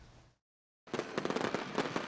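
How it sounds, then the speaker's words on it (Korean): Fireworks at the October lantern festival in Jinju, Korea: after a short silence, a loud, dense crackle of rapid bursts and pops begins and keeps going. "불꽃놀이와 미디어 아트쇼가 어우러지자 10월 축제 분위기는 시작부터 절정입니다"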